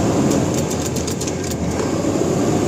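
Mahindra Blazo BS6 truck diesel engine idling steadily, a continuous low rumble with a faint ticking on top, close by and heard alone.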